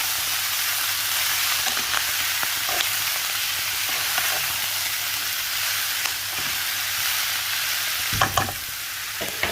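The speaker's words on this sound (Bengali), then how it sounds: "একটু নেড়ে চেড়ে মিশিয়ে নিব সবজির সাথে।" Fried beef pieces being stirred together with vegetables in a hot pan, a steady loud sizzle with scraping stirs throughout and a sharper burst of crackling near the end, no talking.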